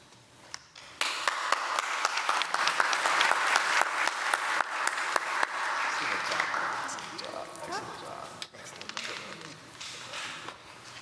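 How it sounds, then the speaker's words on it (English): A crowd applauds after a presentation at a spring startup studio discovery showcase, with loud, sustained clapping and a few sharp individual claps standing out, then gradually thinning out. "All right, another round of applause."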